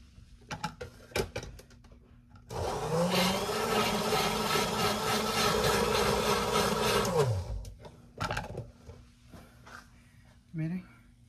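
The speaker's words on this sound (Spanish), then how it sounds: "Acá lo vamos a batir" Kitchen blender whirring through strawberry and banana, starting abruptly, running loud and steady for about five seconds, then winding down; a voice speaks briefly before and after the motor runs.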